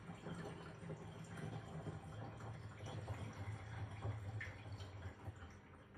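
Water is poured through a funnel into the tank of a mini tabletop dishwasher, giving a steady, quiet gurgle and trickle with small drips that go on for several seconds.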